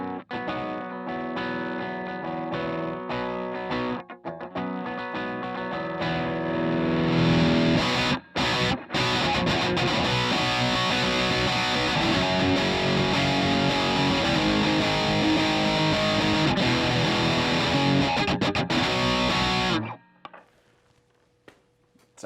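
Distorted electric guitar played loud through a Mesa Boogie Badlander 50 combo amp, dense chords and riffs with effects, swelling at full volume before cutting off near the end.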